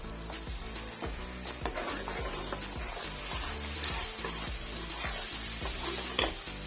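Tomato and green chili paste sizzles and crackles steadily in a hot pan for a desi rohu fish curry, with repeated stirring scrapes sounding at a regular rhythm and no talk.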